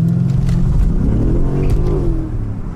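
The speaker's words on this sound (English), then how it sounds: "That seemed to be a really nice launch when you like brake boosted it like that" A BMW M5 Competition engine revs hard and launches on a wet road at night with a loud, rough mid-pitched roar that rises and then eases off, close by.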